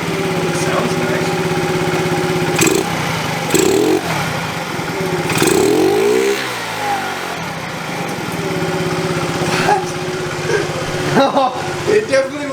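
50cc moped engine running nearby and being revved in short bursts, pitch rising and falling a few times over a steady idle, with some clatter.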